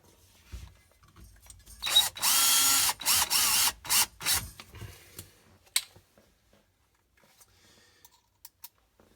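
Power drill driving screws into the back plate of a GE freezer, two whirring bursts around two to five seconds with short stops between, then quiet with faint clicks.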